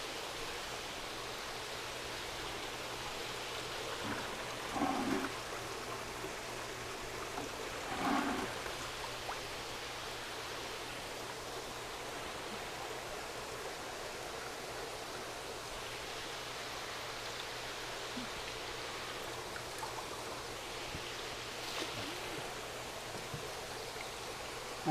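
A siphon drains water from a fish tank in a steady, soft rushing flow, like a thin stream, with a couple of brief splashy bumps and no talking.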